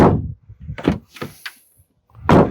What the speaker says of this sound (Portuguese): A porta continua batendo.